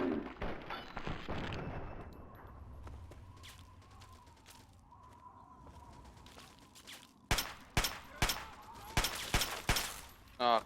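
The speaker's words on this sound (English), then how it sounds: "And he's got a machine gun?" Machine gun fire from a raider in Fallout 3, with rapid bursts of sharp shots that cluster toward the end. Earlier the clip has quieter game ambience and rumble.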